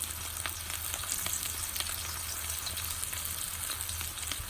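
Bone-in Japanese Wagyu ribeye steak seasoned with salt and pepper, searing in a hot pan with a constant, crackling sizzle and dense spatter, steady and close throughout.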